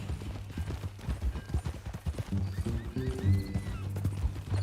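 A horse in Red Dead Redemption 2 whinnies loudly amid steady hoof clip-clops, close by, with a faint voice briefly underneath.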